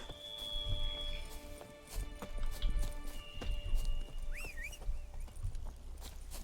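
A horse's hooves clip-clop steadily at walking pace in The Witcher 3 video game, fairly faint, with a brief neigh and soft ambient tones in the background.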